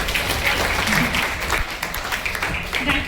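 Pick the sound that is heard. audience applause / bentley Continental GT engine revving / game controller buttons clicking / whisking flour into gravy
audience applause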